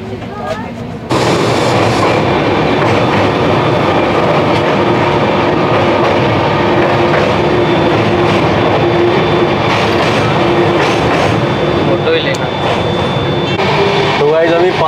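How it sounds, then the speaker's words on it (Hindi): Passenger train travelling from Delhi to Haridwar, heard from inside the carriage as a loud, steady rumble with rhythmic wheel clatter and occasional squeals that continues throughout, with faint voices in the background. "तो 5 घंटे अभी हमको इसी ट्रेन में बैठने हैं।"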